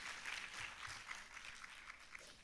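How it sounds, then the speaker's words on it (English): An audience at a leadership forum applauds its founder, a dense, steady wash of many hands clapping together that holds at an even level before easing slightly toward the end. "a round of applause once again for our founder"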